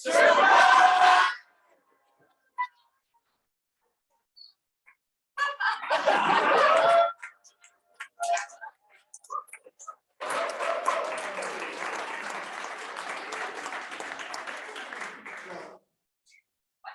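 At a startup pitch event, an audience gives a loud burst of cheering, then a short roar, then sustained applause with whoops, separated by gaps of near silence.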